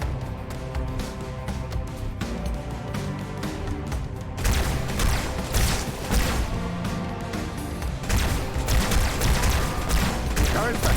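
Sustained bursts of gunfire in Halo 2 combat, loud and near, with dense rapid shots that grow heavier and more chaotic partway through, layered with crashing impacts and game effects.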